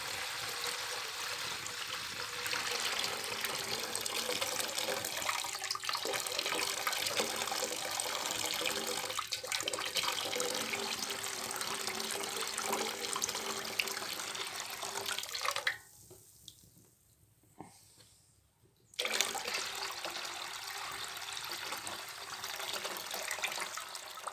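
Boiled ash water is poured slowly from a bucket, leaving the ash behind, for old-style natural grape drying: a steady close splashing stream that pauses briefly partway through, then resumes.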